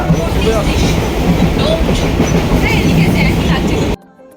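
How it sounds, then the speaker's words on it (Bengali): Amta local train running near Domjur, a loud, close rumble of wheels and carriage with rhythmic clatter and rattling throughout, cutting off near the end. "ডোমজুড়ের এই আমতা লোকাল দিয়ে যখন যাই ট্রেনে করে"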